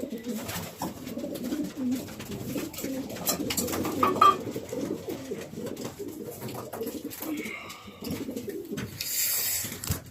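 Pigeons cooing in a loft, with soft repeated coos and bird calls close by amid rustling and shuffling, a few sharper chirps and noises toward the end.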